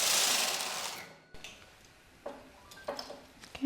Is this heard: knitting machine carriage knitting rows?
yes